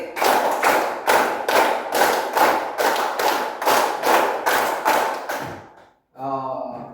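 Classroom hand clapping from a group of pupils: a steady run of about a dozen loud, evenly spaced claps, then a brief pause and a short voiced sound at the end.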